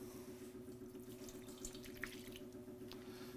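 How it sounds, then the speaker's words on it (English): Water runs from a tap in a steady faint stream with a low hum underneath, poured into ground sausage meat for Southern breakfast sausage. "Now we're going in with the water."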